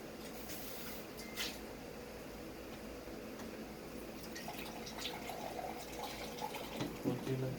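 Water trickles and splashes softly as it is poured into a glass for taking vitamins, a faint continuous liquid sound with a few drips, brighter splashing near the end.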